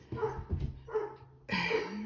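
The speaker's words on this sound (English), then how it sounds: "Please excuse the neighbor's dogs barking because that's how it goes this morning." A neighbor's dogs barking outdoors in the morning, three separate medium-loud barks spaced about half a second to a second apart, heard alone without speech.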